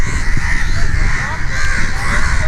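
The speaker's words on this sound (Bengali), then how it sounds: "আপনারা কাকে ডাকও শুনছেন" Crows caw at a ghat on the Meghna river where fishing boats are kept, brief calls sounding through dense riverside noise and nearby voices.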